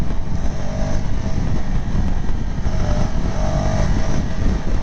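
A 2025 KTM 390 Adventure motorcycle engine pulling steadily in 4th gear at 90 km/h, a loud, continuous engine drone mixed with heavy wind rush and no pauses or talk.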